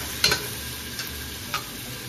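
Galangal or ginger and lemongrass sautéing for a seafood tom yum soup, with a constant sizzle broken by three light stirring taps in the pan.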